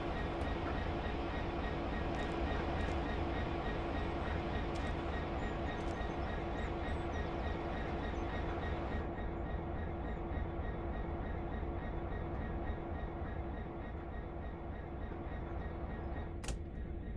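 A diesel locomotive in Train Sim World, on a GWE addon route, rumbles steadily at idle with a constant engine drone and faint clanks, close and continuous throughout.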